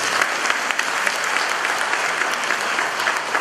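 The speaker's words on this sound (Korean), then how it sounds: "이건 박수 쳐줘야 돼요." Audience at a lecture on wealth and money claps loudly and continuously, a dense, even burst of applause close at hand.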